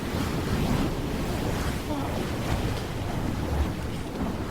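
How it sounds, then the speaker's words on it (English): Steady churning and rushing of water, a continuous broadband wash like surf or a wake, loud and close with gusty wind-like noise over it and no clear breaks. "You hear the water churn and rush around them as they move."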